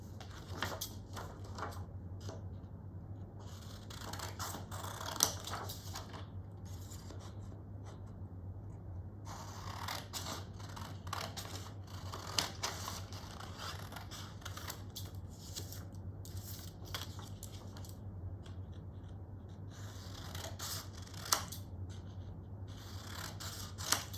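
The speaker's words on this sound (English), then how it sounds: "We are going to cut out our squares." Scissors snipping through paper, cutting out squares for a homemade game in a quiet classroom-style setting; soft repeated cuts and paper rustles continue in bursts across the whole stretch over a steady low hum, with no talking.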